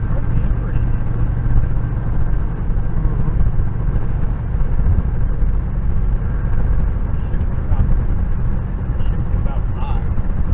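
A 1969 Pontiac Firebird's engine drones steadily and loudly from inside the moving car, with a constant low rumble and road noise running the whole way and no clear break for a gear change.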